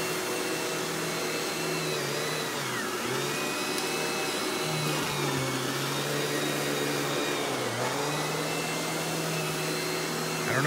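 A Royal Classic Power Team (Power Tank) 4650 canister vacuum runs with a suspected hose or wand fault, giving a loud, steady whining drone whose pitch dips and recovers a few times.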